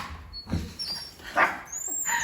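A small dog whimpers and yips in a few short, high-pitched bursts spread across a couple of seconds, close by in a quiet indoor room.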